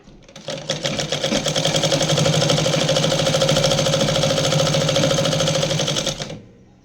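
A close sewing machine stitches a petticoat panel in one continuous, loud rhythmic run, starting up, holding a steady fast chatter for several seconds, then winding down, with no talk over it.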